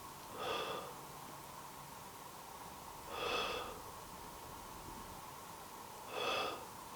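Faint breathing inside an old school house at night, three soft breath-like puffs spaced about three seconds apart over a steady low hum.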